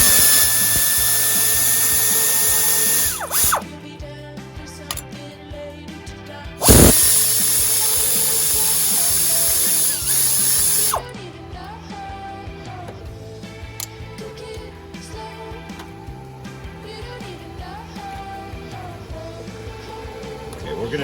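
An 8mm socket ratchet loosens bolts on the electric fan of a Jeep Cherokee XJ: steady mechanical ratcheting and tool whirring run throughout, broken by a few sharp clicks and clunks.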